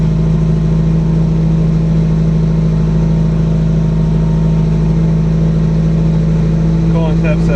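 A Subaru Impreza GC8 engine idling during cold start tuning, a loud steady hum close by with a constant drone throughout.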